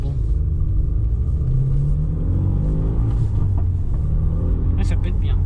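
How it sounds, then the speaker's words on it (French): Ford Mustang driving away from a car meet, a deep engine rumble with rising revs heard close by while people talk over it. "On a un ami en Mustang qui s'en va."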